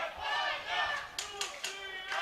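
At a 3D archery championship final in Maribor, a Spanish crowd cheers and shouts from a distance, with bursts of clapping rising under commentators talking.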